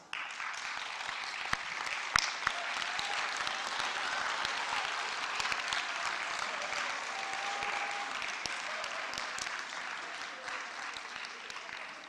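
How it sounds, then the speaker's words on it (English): Graduates at a Torrens University graduation ceremony in Brisbane give families and staff a long round of applause, a broad, even wash of many hands clapping in a large hall, heard from a distance with a few louder claps standing out. "I would like to now ask you to stand up and say thank you through giving them a big round of applause."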